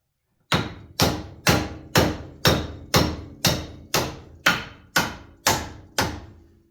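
Eleven evenly spaced hammer blows ring out one after another as a drop box part on a New Holland four-wheel-drive assembly is driven into place, each strike loud, close and sharp with a short decaying ring.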